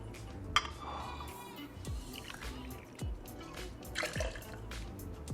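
Two ounces of Midori melon liqueur poured into a mixing vessel for a Tokyo iced tea cocktail, a soft liquid trickle and drip sounding close but quiet over faint room noise.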